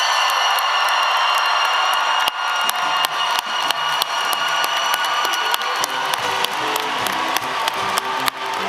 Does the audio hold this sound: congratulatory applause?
yes